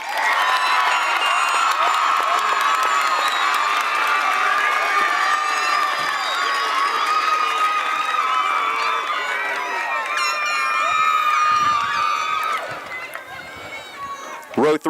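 A large audience at a school graduation ceremony applauds and cheers for graduates, with sustained clapping, whoops and shouting that stays loud and dense before thinning out near the end.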